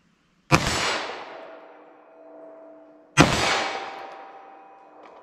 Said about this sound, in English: So I'm going to fire a couple rounds from 25 yards